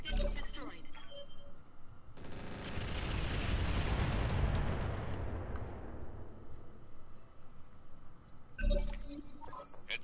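Destroyed target explodes in the mech combat game Roguetech, a loud rumbling blast that swells and slowly fades over several seconds, framed by game radio voices and effects before and after.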